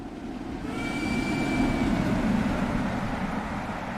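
A steam locomotive named Dragon rolls past in Train Sim World 2 on the Horseshoe Curve steam tour, a loud, steady rumble of wheels and carriages with a thin high whine, heard close by from the trackside stairs.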